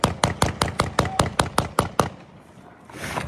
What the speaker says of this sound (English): armed American security guards opening fire